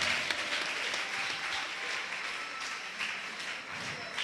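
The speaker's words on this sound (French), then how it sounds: "Acclamons très fort le Seigneur pour la vie de cette femme." A church congregation applauds at a prophetic healing service, a dense, steady wash of many hands clapping that holds evenly from start to finish.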